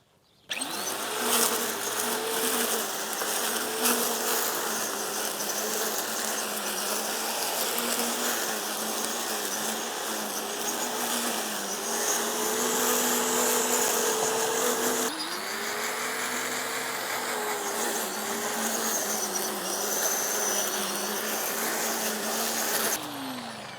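A nylon-line string trimmer runs close to a wall at steady high revs, its motor whine holding loud and continuous with brief dips in pitch as the worn line bites against the edge.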